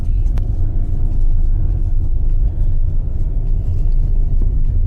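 A car driving along a winding mountain road in Spain gives a steady, loud, close engine rumble and low road roar that holds evenly throughout, with no voices.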